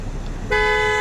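A car horn blares at a roadside protest, a single sustained honk that starts abruptly halfway through and holds loud and close over low traffic rumble.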